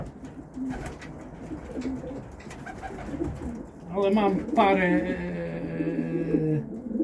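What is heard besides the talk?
homing pigeons cooing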